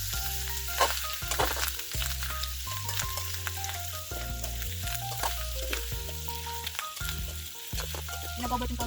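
Food frying and being stirred in a pan, with a loud steady sizzle and repeated scraping and clanking of a utensil against the pan in an irregular rhythm, close and without talk.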